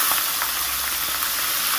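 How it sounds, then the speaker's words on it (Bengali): Pieces of katla fish fry in hot oil, giving a close, steady hiss and sizzle that holds evenly without a break. "তেলটা খুব সুন্দর করে গরম করে মাছটাকে দেব"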